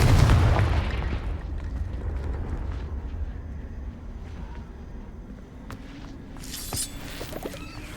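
Blasting-spell explosions in Hogwarts Legacy: a deep booming blast that rumbles and fades, followed by a sharper crack later on.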